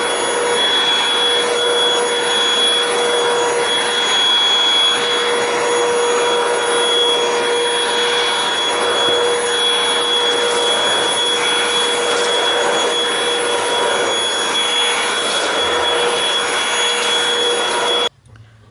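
A Hoover BH52210PC Cruise cordless stick vacuum runs steadily and loudly with a high-pitched motor whine, continuing without pause before cutting off abruptly at the end.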